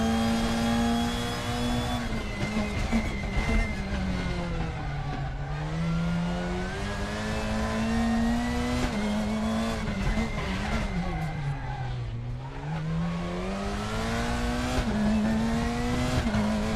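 A GT3 race car on the Spa circuit in a racing game, its engine note dropping under braking and climbing again under acceleration, with tire squeal, loud and continuous with some talk beneath.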